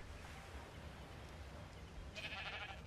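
A purple sheep bleats in the video game ARK: Lost Island over a steady noisy background, with one clear bleat in the final second.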